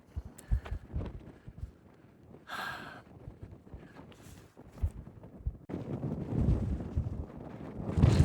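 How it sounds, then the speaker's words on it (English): Strong gusty wind on a cold, damp mountain buffets the microphone with low rumbling bursts, growing steadier and louder toward the end. "it's cold and damp and very, very windy up here."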